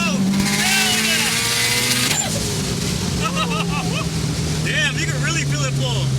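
A built Subaru STI engine making 550 wheel horsepower on E85 revs hard on a dyno, a loud sustained drone with rising and falling pitch. Excited voices talk over it throughout.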